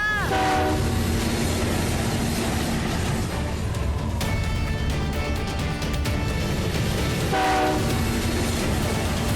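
A train rushes past close by, its loud rumbling and clattering continuous throughout, with a long horn blast at the start and another near the end.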